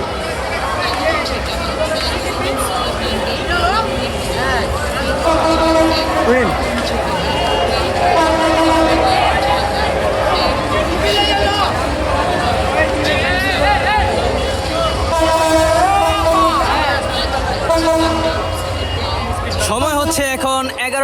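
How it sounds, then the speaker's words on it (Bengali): The Benapole Express rumbles through Jurain level crossing, with a horn sounding amid busy crowd chatter and someone talking throughout. "জুরাইন রেলগেট থ্রু পাস করে যাচ্ছে বেনাপোল অভিমুখী বেনাপোল এক্সপ্রেস"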